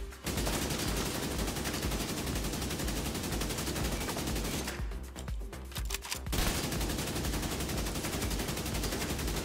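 An assault rifle fires in The Division 2 video game, a loud, sustained stream of rapid automatic shots that pauses briefly partway through, then resumes.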